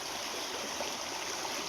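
Water in a small channel beside a field rushes steadily during a monsoon downpour in Pala, a continuous broadband flowing hiss with no talk over it.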